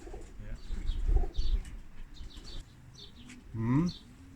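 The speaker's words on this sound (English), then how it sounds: "That's a pigeon, isn't it?" A pigeon coos in a short series of soft, low, rolling calls from fairly close by, heard outdoors with faint ambient noise and a few brief higher chirps in the background.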